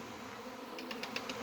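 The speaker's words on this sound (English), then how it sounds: "massive amount of bees" Honey bees swarming early in the season near backyard hives, a faint, continuous buzzing hum with a few brief, slightly louder passes toward the end.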